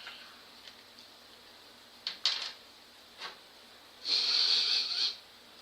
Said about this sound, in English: Take a sniff over them, see if they work together.